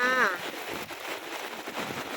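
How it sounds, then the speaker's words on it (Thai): Heavy rain pours down steadily in a flooded area, a dense, even hiss that fills the whole stretch, with a brief voice audible at the very start. "ฝนตกหนักเลยค่ะทิศนี้ฝนตกหนักทุกวันเลยนะจ๊ะ"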